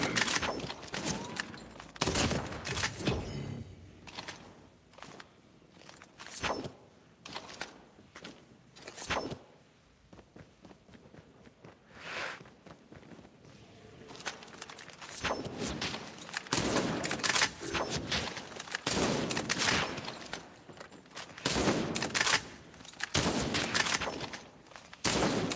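Video game gunfire from Call of Duty Mobile rings out in loud bursts of rapid shots and fusillades, broken by short quieter gaps and footstep-like movement, with no talking.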